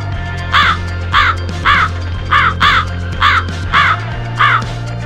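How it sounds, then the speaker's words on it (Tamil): A crow caws loudly and nearby, eight evenly spaced harsh calls in a steady rhythm outside a house, over a low background hum. "காக்கா"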